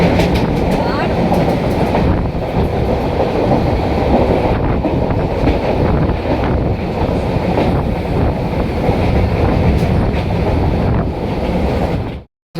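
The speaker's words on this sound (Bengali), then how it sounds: "ট্রেন এসে গেছে আমাদের" A commuter train at Dankuni station, West Bengal, pulls in with a loud, continuous rumble and rattle of rail cars, steady throughout and close, with wind buffeting the microphone, ending abruptly.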